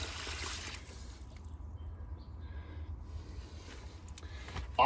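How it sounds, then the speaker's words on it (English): Water flowing through the pipe of a leaky outdoor faucet after the supply is turned on, a steady low rushing hiss that runs on alone without pause at moderate loudness. "you can hear the water flowing"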